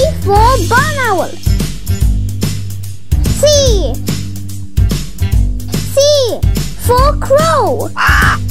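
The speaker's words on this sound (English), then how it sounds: "C for crow." Cartoon crow caws in a children's vocabulary lesson, several harsh rising-falling calls spaced through the clip over a steady musical backing, with brief child-like vocal bits between.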